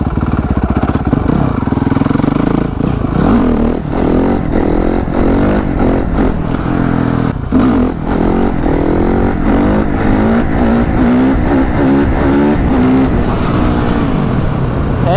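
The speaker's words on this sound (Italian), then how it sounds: "quindi proviamo a dargli il colpettino di frizione" Honda CRF 450 dirt bike engine revving hard and continuously at close range, pitch repeatedly climbing and falling through sharp throttle blips during a clutch-pop wheelie attempt, loud throughout.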